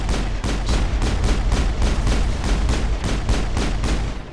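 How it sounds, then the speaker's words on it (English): Rapid, evenly spaced booms and bursts of combat fire from grenades exploding in the sci-fi game Mass Effect, loud and continuous with no talk. "I'm going to use a couple of grenades here"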